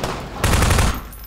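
Gunfire in the video game Half-Life 2 Episode 1: a loud, rapid burst of shots about half a second long, set against a steady background of game noise, with no talking.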